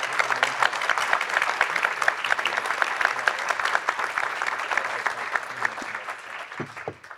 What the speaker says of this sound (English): Give them a really warm applause